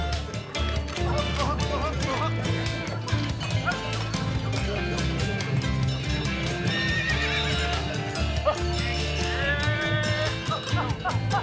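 A Camargue horse whinnies and neighs with clip-clopping hooves, set against a steady, dense bed of music that runs loud throughout.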